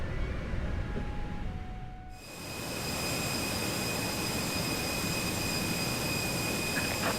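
An aircraft auxiliary power unit spools up in Microsoft Flight Simulator; a quieter cabin hum gives way to a steady loud roar with high whining tones that holds to the end.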